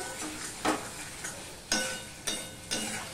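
Spice paste for hilsa fish sizzles in a pan, a steady hiss broken by several sharp scraping stirs at irregular intervals, with no one talking.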